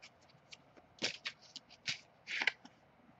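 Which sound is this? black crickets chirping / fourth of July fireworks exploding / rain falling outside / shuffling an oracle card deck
shuffling an oracle card deck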